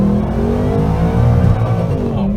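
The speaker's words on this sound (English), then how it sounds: "Give it a little stab on the throttle there." A supercharged 2019 Ford Mustang GT with a Whipple blower and Lund tune gets a throttle stab on the street, a loud, close engine roar rising steadily in pitch as the car accelerates.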